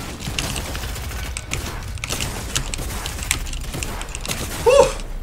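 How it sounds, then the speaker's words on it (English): Pulse rifle fire in a video game, a dense rapid rattle of shots running continuously under busy game noise, loud and close, swelling briefly near the end. "Oh god, that pulse rifle!"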